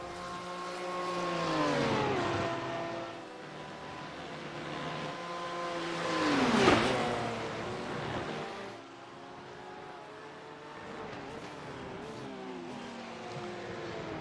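Race cars at the Misano circuit accelerating hard out of corners, engines screaming through rising gear sweeps, with two loud passes that swell and fall in pitch as they go by, followed by a fainter revving car.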